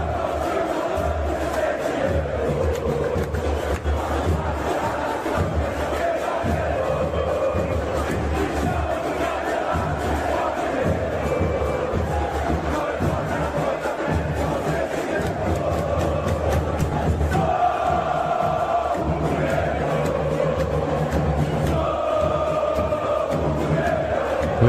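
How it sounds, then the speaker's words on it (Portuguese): Flamengo football fans at the Maracanã cheer and chant together, a dense, sustained roar of a huge crowd with rising sung chants throughout, loud and continuous. "Essa torcida é show demais."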